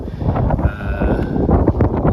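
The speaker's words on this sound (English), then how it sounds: "It's still windy" Gusty wind buffets the microphone with low, uneven rumbling and rustling, steady and close, no voices, beside a BMW 330i E90 under repair.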